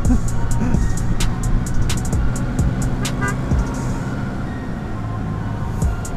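A vehicle speeds up to overtake on the road from Ponorogo toward Telaga Ngebel, its engine note rising under loud road and traffic noise, with a short horn-like toot among the rumble.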